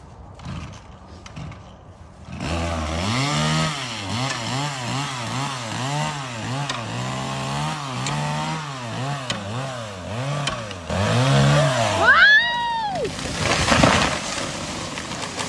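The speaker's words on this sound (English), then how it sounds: "they resorted to a metal lever and chainsaw to ensure its final descent." Chainsaw roars steadily through a stubborn tree being felled with help from a metal lever, its engine revving in repeated rising-and-falling pulses for about nine seconds, then a louder burst and a sharp whine as the cut finishes and the tree gives way.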